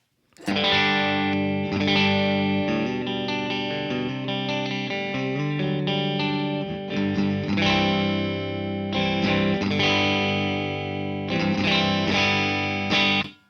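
Electric guitar chords ring through a Kemper amp profile with slight gritty breakup, strummed and sustained in a steady loud passage with no talking.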